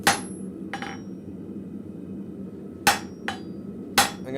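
Steel is hammered on the edge of an anvil in a blacksmith shop, with several sharp ringing blows spaced irregularly, some followed by quick lighter rebounds, loud and close over a low shop hum.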